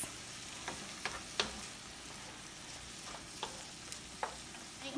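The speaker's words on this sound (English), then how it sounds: "I will be sauteing this for about 2 minutes" Spanish riced cauliflower sautés quietly in a pan, a soft steady sizzle broken by a few sharp clicks of the utensil stirring it, with no one talking.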